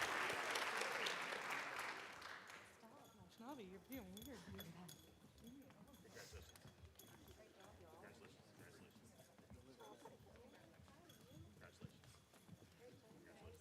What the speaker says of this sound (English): One more big round of applause for the Argyle High School Theater Department National